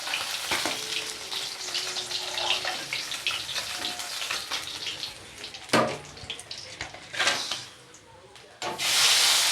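Bata fish frying in mustard oil in a kadai, an uneven sizzle broken by bursts of spattering and brief clanks, with a sudden loud hiss at the end.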